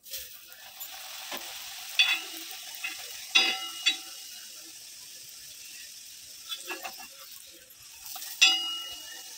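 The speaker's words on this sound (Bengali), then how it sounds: "এইভাবে আমি সব কটা পাওয়াটা ভেজে নেব।" A cabbage paratha fries on a tawa with a soft, faint sizzle, broken by scattered scraping and clicking touches of a spatula.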